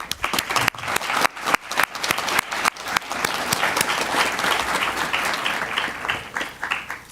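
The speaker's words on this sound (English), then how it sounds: "we always applaud our scouts" A room of attendees at a board meeting claps for scouts, sharp individual claps at first that swell into a sustained wash of applause.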